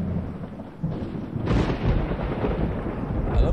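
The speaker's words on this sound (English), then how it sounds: "Oh, it's started raining." A thunderstorm weather effect in the video game Project Zomboid: steady rain hiss with a loud rolling thunder crack that surges and lingers, no talking.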